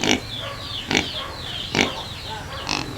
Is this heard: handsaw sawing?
no